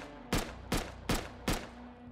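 Four sharp, loud rifle shots from an M39 in the game Rust, fired one at a time at an even pace about 0.4 seconds apart, each with a short tail, and no talking.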